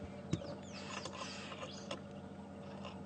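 Bird in the African bush at sunrise giving a rapid, clicking, ratchet-like call like a stick held against spinning bicycle spokes, repeated in quick bursts over a steady background of wildlife noise.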